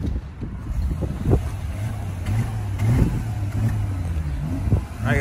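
A stock exhaust on a Mercedes W204 C300 idles as a low, steady engine rumble with a few soft revs, heard fairly close and without any talk.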